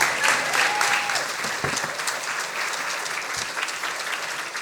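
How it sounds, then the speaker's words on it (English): An audience at a science slam applauds a speaker named Chun, with steady dense clapping filling the room for several seconds and a faint whistle near the start. "Big applause for Chun."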